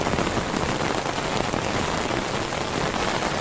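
Heavy rain pours down steadily, a dense close hiss of drops drumming on surfaces with no pauses.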